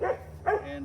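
Two quick barks from dogs playing with each other outdoors, short and moderately near, with a voice briefly heard.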